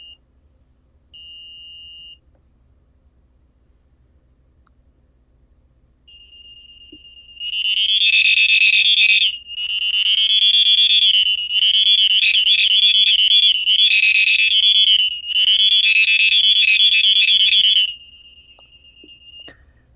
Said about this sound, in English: the buzzer is pretty annoying, although it is useful for making sort of alerts